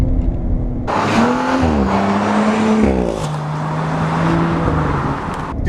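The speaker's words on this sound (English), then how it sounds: "The exhaust note's not bad." A second-generation Audi RS5 accelerates hard, its engine and exhaust rising in pitch through two gear shifts before settling into a strong steady drone, loud and close with no speech.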